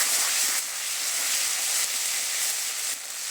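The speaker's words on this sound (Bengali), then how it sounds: "মশলাটা নেড়ে নেব" Spices with salt and turmeric stirred and frying in a pan for a vegetarian chana dal, a steady close hiss and sizzle with faint scraping, no voice.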